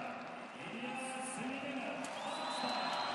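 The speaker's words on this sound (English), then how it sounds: "Huge cheer, understandably so" A crowd cheering at an Olympic qualifying boxing final in Asia, a steady, fairly distant roar with shouts and whoops blended in and commentary-like voices underneath.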